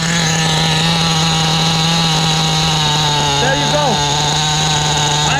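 A nitro HPI WR8 rally RC car engine idles with a steady, high-pitched buzzing drone, loud and close, its pitch wavering briefly near the end while a voice speaks a few words.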